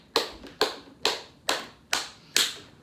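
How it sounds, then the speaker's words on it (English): Children in a yoga class clapping their hands, five or six separate sharp claps at an even rhythm about half a second apart, fairly close, with no talking between them. "Can you clap your hands?"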